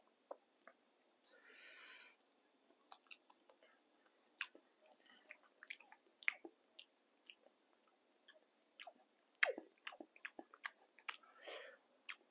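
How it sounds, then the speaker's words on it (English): Close, quiet chewing of shrimp at a mukbang meal, with soft wet bites and crunchy mouth clicks in an irregular patter, alone without talk. "let me taste the shrimp"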